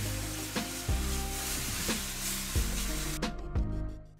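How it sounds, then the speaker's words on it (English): Vegetables sizzle steadily in sunflower oil in a pan, a close, soft frying hiss with occasional stirring clatters and scrapes throughout. "Roast the vegetables for about 10 minutes."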